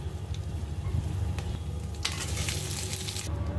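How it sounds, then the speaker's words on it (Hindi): Hing, curry leaves, red chili powder and turmeric frying in hot oil in a pan, a steady close sizzle throughout that brightens and grows crisper partway through, with no voices. "अच्छे से भूनना है"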